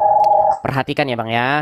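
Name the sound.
telephone ringing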